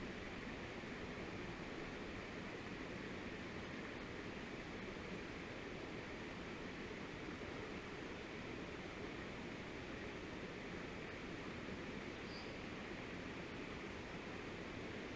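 Waterfall water rushing in a steady, unbroken broadband roar that stays constant and close for the whole stretch, with no voices over it.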